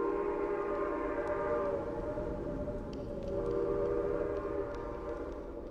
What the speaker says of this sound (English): It was the sound of a train.